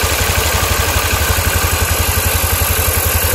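A carbureted Honda Beat scooter engine idles close by with a steady, rapid rhythmic putter and noisy mechanical chatter, heard alone.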